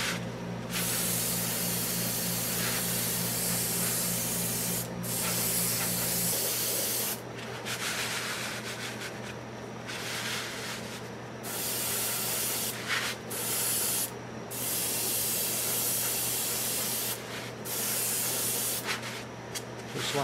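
An airbrush or spray gun hisses in long, steady bursts with brief pauses while laying pre-shading on a model spaceship from the 1980s series V, close and loud over a low background hum.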